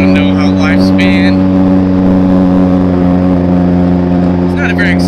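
Steady loud drone of a Benelli TRK motorcycle engine while riding, holding an even pitch throughout, with a voice speaking briefly over it at the start and near the end.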